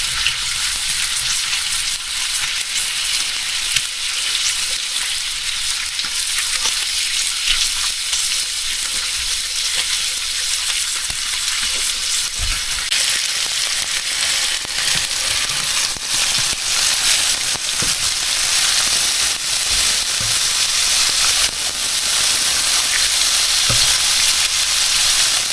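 Bacon sizzles and crackles steadily on a flat griddle, a loud, continuous frying hiss with scattered pops running throughout, no voices over it.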